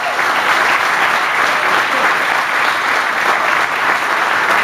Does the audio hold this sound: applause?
yes